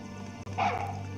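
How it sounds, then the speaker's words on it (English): A dog in Deus Ex, in the Paris level, gives a single short, close bark with a brief yip at the end, heard alone. "A really cute little friendly dog."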